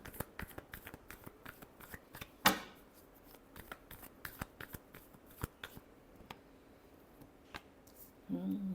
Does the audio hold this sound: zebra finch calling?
no